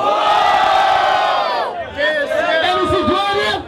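Crowd at an outdoor freestyle rap battle roda in São Gonçalo cheering and shouting in a sustained roar, with whoops and scattered yelling rising and falling, loud and close.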